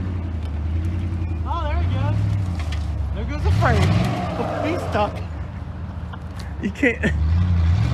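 A truck engine drones and revs while the truck sits stuck in a deep mud hole, a low steady rumble with rising surges under people talking and exclaiming.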